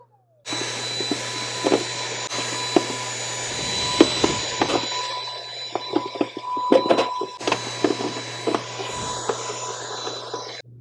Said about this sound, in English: So what I'm going to do is just quickly vacuum it